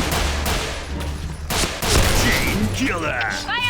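Rapid bursts of gunfire in an online shooting game crack loudly and close, several sharp volleys in quick succession, with a voice speaking over the shots and some ringing tonal effects toward the end.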